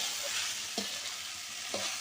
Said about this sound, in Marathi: आजीने फोडणीच्या वेळेस आता भेंड्या टाकलेल्या आहे बघा अशा पद्धतीने हलवून घ्यायचं आहे